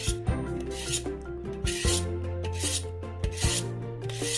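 Kitchen knife from a blue 16-piece Wanbasion set drawn repeatedly across the coarse side of a sharpener, giving a series of close, scraping rasps in a steady rhythm with no talking.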